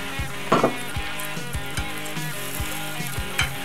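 Milk being stirred into sizzling chicken fried steak gravy in a pan, with a steady frying hiss, soft rhythmic spoon taps and scrapes, close and moderately loud with no talking.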